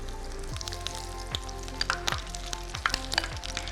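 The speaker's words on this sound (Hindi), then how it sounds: "खोल खोल के डालना है चिकन को, आपने एक साथ नहीं डालना है वरना सही से फ्राई नहीं होंगे" Chicken pieces fry in a pan with a steady sizzle, punctuated by sharp crackles and spatters and a few soft clunks of pieces being moved, close and fairly quiet with no voices.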